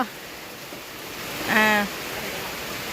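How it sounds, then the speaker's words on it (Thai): Rain falls in a steady, even hiss, with a short tonal call rising briefly in the middle. "ฝนตกพี่น้องเอ้"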